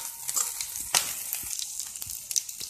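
Onion and cabbage roast in a pan over a low gas flame for cabbage Manchurian, giving a soft, steady close sizzle broken by scattered small crackles and pops, with no talking.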